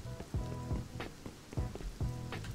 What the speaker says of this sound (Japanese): 雨やだな、止んでほしい。